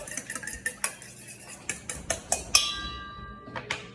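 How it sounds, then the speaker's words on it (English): A whisk clinks repeatedly against a bowl while a mixture is beaten for tacos, giving a quick, uneven series of sharp metallic ticks at close range with no talking. "Whisk this up."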